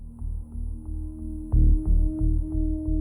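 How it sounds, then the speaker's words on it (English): Hemi-Sync tones play as two steady hums at slightly different pitches, forming a low throbbing drone that pulses and swells partway through and continues alone. "Two frequencies play at slightly different pitches, what the Institute called Hemi-Sync."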